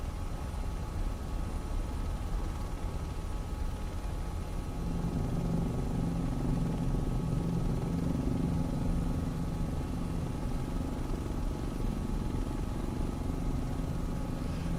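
Helicopter cruising near Mt Fuji in Microsoft Flight Simulator 2024, a steady, loud drone of engine and rotor that stays constant throughout, with no talking.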